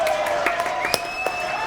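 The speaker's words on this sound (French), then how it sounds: "applaudissements pour Angélique" A studio audience applauds on a Christmas special of a French TV show, the clapping loud and close with a few sharper claps standing out, while voices talk over it.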